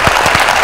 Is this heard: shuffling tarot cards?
no